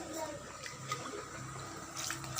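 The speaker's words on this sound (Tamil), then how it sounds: "ஒரு 1/2 டம்ளர் தண்ணியை இதில் ஆட் பண்ணிக்கலாம்." Half a tumbler of water is poured into chicken kuruma as it cooks, giving a soft, continuous splashing trickle at low level with faint background noise.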